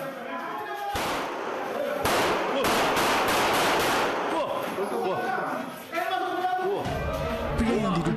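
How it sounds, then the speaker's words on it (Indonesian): Bursts of rapid gunfire from a handgun fired repeatedly into the air at a factory crackle over a tense, noisy scene, with voices shouting in between the volleys. "Pria yang diduga pimpinan pabrik menembakkan senjata api berulang kali."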